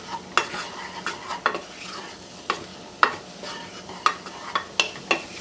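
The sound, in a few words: stirring flour in a pan to make a roux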